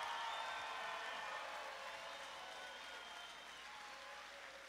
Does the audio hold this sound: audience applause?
yes